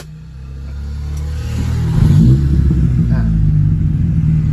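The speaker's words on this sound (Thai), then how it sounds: "เครื่องติดแล้วครับ เครื่องติดง่ายนะครับ" A Nissan Sunny B11 car engine cranks and catches, then settles into a steady low rumbling idle, loud and close.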